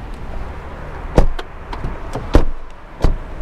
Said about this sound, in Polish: Przetestuję, jak zamykają się drzwi.